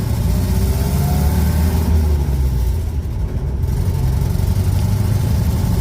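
Nash Metropolitan engine revving while driving, a close, loud low rumble that rises and dips unevenly, with no voices.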